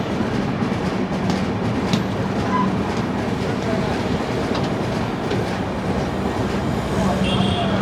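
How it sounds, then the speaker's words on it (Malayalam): The Kovai Express running out of Chennai, heard from inside an AC chair car: a steady rumbling roll with clattering wheels on the track, continuous and close. "അപ്പോൾ അങ്ങനെ കോവ എക്സ്പ്രസ് നമ്മുടെ യാത്ര തുടങ്ങി"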